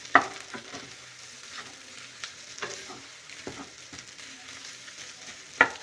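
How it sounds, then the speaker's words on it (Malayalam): Chicken cheese ball mixture being stirred together in a pan, a soft low sizzle broken by scattered scrapes and a couple of sharp knocks of the spoon at the start and end, close by with no voices. "ഇതെല്ലാം കൂടി നന്നായിട്ട് യോജിപ്പിച്ച് കൊടുക്കുക."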